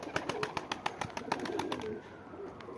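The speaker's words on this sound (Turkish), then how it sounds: "Kuş ama bunlar." Pigeons, a flock of tumbler pigeons, give soft repeated calls with a run of sharp rhythmic flaps or claps in the first two seconds, then a low steady murmur of birds close by.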